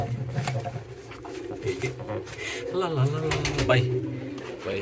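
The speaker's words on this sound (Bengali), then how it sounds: "আমাদের কিং কবুতর মাদিটা চলে আসছে এখানে আর আমাদের কিং কবুতরটা এখানে আসছে" King pigeons coo close by in low, rolling, wavering calls that repeat over a few seconds, with a person talking at the same time and some light shuffling in the background.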